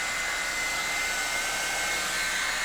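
A Revlon One Step hair dryer blowing steadily at full power, a loud constant whooshing roar with a high whine, no voices.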